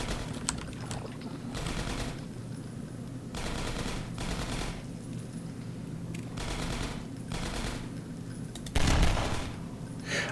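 Gunfire in the video game Half-Life 2 Episode 1, in dark underground areas, with repeated bursts of automatic fire several seconds apart over steady loud game noise, and one heavier blast near the end.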